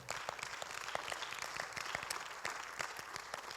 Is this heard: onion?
no